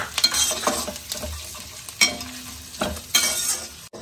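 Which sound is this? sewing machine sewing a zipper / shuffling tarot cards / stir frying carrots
stir frying carrots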